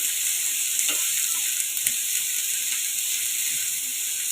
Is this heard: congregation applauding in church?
no